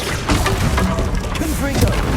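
The Bombarda explosion spell from the video game Hogwarts Legacy lands as a short, loud boom over a dense, continuous bed of game noise and music, lasting only a couple of seconds.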